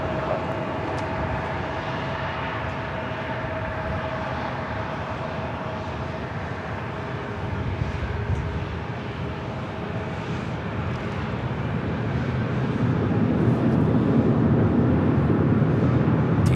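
A WestJet airliner takes off from runway 24 left at LAX; distant jet engine roar builds slowly and grows louder over the steady broadband rumble.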